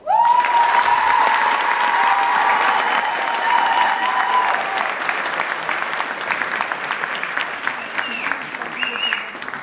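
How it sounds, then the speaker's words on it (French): Loud applause from the audience at a regional beauty pageant election, steady dense clapping from start to finish with a voice ringing out over it early on and brief whoops near the end. "j'aimerais que vous applaudissiez très fort"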